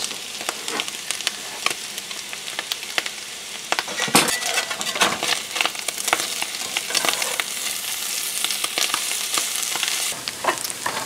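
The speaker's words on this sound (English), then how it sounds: "will add in some onion and peppers" Onion and peppers fry in a pan, giving a steady close sizzle punctuated by stirring scrapes and occasional light clinks, with a louder burst of crackling around the middle.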